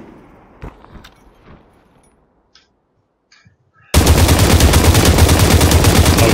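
An SPR sniper rifle fires in Population: One, loud continuous gunfire that starts abruptly partway in and holds to the end, preceded by sparse faint clicks and thumps.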